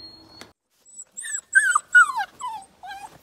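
New hound puppies whimper and yip in a run of high, thin whines, close and fairly loud, coming in short repeated bursts after a quiet start.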